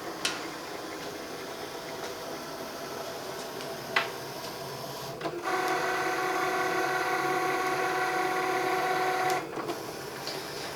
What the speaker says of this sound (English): So it's now going to go and cut